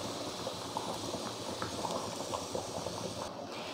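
Green peas and tomatoes fry in a pan with chicken, giving a steady dense sizzle and bubbling hiss with small pops, close and fairly loud, with no talking.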